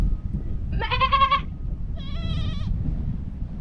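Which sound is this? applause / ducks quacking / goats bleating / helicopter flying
goats bleating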